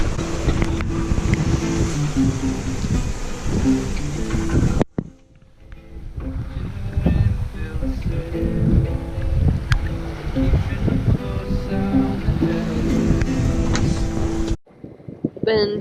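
Sailboat tacking offshore in the Atlantic near Cape Fear, with steady wind rush and waves slapping the hull, loud and continuous, briefly dropping to a quieter stretch midway before the noise returns.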